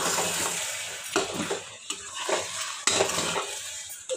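A spoon stirring thick upma in a pan on the stove, steady scraping and clinking strokes over a soft sizzle, with no talk.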